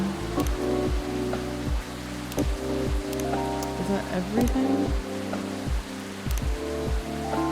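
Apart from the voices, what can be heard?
rain in the video game Coffee Talk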